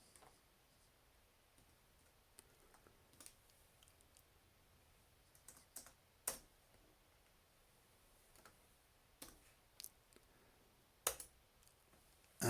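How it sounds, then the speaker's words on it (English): Faint, scattered clicks of keys on a computer keyboard as a game number is entered, irregular single taps spread out over several seconds in a quiet room with no talking. "So do new record, type your game number in,"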